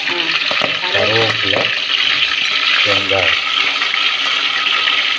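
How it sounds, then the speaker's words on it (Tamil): Mustard seeds tempering in hot oil for mutton rasam, a steady, bright hiss of frying oil running throughout, with brief human voice sounds over it twice. "நல்லா காஞ்சி வச்சு கடுகு சேர்க்குறாங்க"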